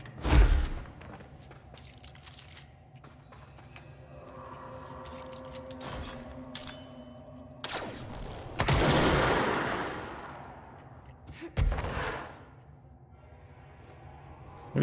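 Gunfire from the video game Control: a few sharp, scattered shots and thuds broken up by quieter gaps, with one louder burst in the middle and another near the end.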